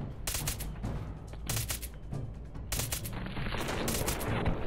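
Rapid bursts of gunfire in Fallout 4's Nuka World, played on Survival difficulty, with several loud volleys of automatic shots separated by short pauses over a constant game background.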